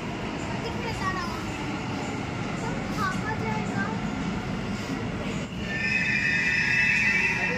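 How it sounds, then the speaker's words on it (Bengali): A metro train pulls into a station with a steady low rumble that swells near the end into a bright, sustained brake squeal, while voices chatter nearby. "মেট্রো চলে এসছে"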